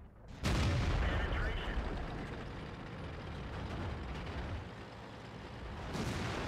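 Tank cannon fire in World of Tanks on the El Halluf map, a sudden loud boom at the start followed by a sustained rumbling roar of battle noise and engine drone, with a fresh burst near the end.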